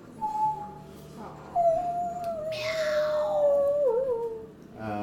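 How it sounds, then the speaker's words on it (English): A cat's long, wavering howl of pain rises and drags on for several seconds, with a short yelp near the start. "hear her screech out in pain, howl as a cat does in pain"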